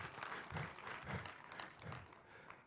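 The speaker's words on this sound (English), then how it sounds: "Big applause for the Umbriel." Applause from a conference audience at a software testing talk, honouring a quiz winner; a soft, steady patter of many hands clapping at a distance, with faint swells, fairly quiet throughout.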